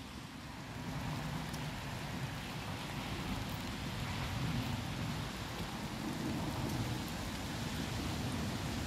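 Steady rain falls outdoors in a garden in Elderslie, Scotland, a continuous soft hiss of drops on surfaces with no talking.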